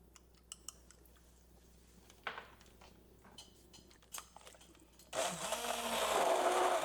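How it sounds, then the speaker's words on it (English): A kitchen blender starts up and runs loudly, whirring steadily as it purees chipotle chilies, tomatoes, garlic and vinegar for chicken tinga, with a few light clicks and taps before it kicks on. "We blend it all together."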